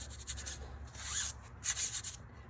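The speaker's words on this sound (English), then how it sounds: "Just clean it up a little bit with some Scotch-Brite" Scotch-Brite pad scrubbing the rear axle housing of a Yamaha Warrior ATV, giving close, dry, scratchy rubbing in several uneven bursts with short pauses between strokes.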